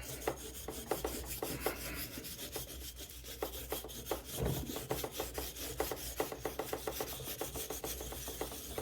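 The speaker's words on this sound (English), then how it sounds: "I use a brass brush, and I give the whole pitch flap a good scrub." A brass brush scrubs the pitch lap used to polish a 17.5-inch telescope mirror, making rapid, rhythmic rasping strokes that are close and steady throughout, with no talking.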